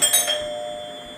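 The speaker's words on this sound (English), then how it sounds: "Stop ringing my bell like you stupid or something." A doorbell rings once with a bright electronic chime, two quick tones that ring out clearly and then fade into a lingering decay.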